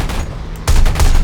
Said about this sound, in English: That's why we have this 37mm cannon.